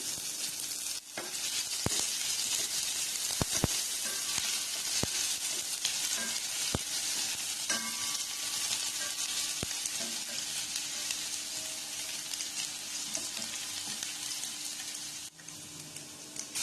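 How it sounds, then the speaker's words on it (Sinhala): Lemongrass and salt frying in hot oil for chicken sweet corn soup, a steady close sizzle running throughout with scattered clicks and taps of a utensil stirring the pan, no voices. "තෙල් ටික හොඳින් රත් වෙගෙන එද්දි සේර සහ ලුණු ටික එකතු කරගෙන මේක ටිකක් හොඳින් රන්වන් පාට වෙනකන් තෙලේ බැද"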